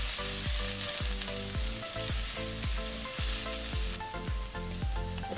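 Chopped onion sizzles loudly in a kadhai while a spoon knocks and scrapes against the pan in a quick, steady rhythm, continuous frying hiss throughout.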